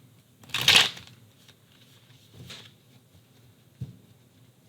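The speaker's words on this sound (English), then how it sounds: "We're going to shuffle again." A few quick, crisp riffles of tarot cards being shuffled, close by, separated by quiet pauses.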